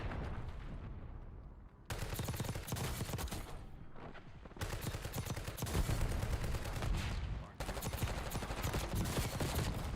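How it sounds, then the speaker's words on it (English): Call of Duty Warzone gunfire in Verdansk, with rapid automatic bursts firing in long dense volleys, loud and close, separated by brief pauses. "He's shooting me through the wall."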